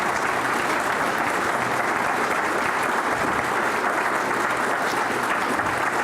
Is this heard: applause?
yes